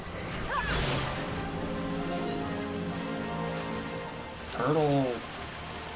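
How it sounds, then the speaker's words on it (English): Steady hissing rain falls in Final Fantasy XII: The Zodiac Age, a continuous wash under brief bits of talk. "It's only raining right now."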